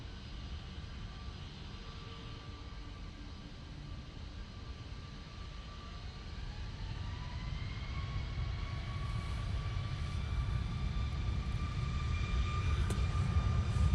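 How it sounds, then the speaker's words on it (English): A TUI Boeing 737 MAX 8 rolls for takeoff at a wet, windy Manchester Airport, its engine roar distant at first and steadily swelling louder and closer, with whining engine tones rising toward the end. "737 MAX 8 now on the roll"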